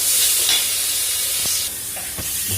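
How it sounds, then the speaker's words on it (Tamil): Ground paste goes into hot oil with popped mustard seeds for a keema paratha filling and sizzles loudly and steadily in the pan. A spoon stirs it now and then with a few soft scrapes. "நம்ம அரைச்சி வச்சிருந்த பேஸ்ட் போட்டுக்கலாம். நல்லா மிக்ஸ் பண்ணிக்கோங்க."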